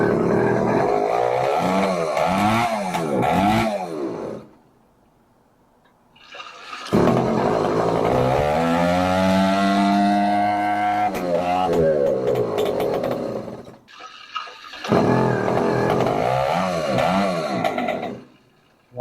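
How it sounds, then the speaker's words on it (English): An 80cc two-stroke engine on a motorized bicycle, with a suspected fuel problem, revs up in sputtering surges, then cuts out and stalls into quiet before firing again in repeated uneven bursts. "Why does it go vroom, stop and start, stop and start?"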